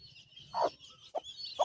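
A mother hen near her newly hatched chicks gives a few soft, close clucks, three short calls over a thin background of faint high peeping.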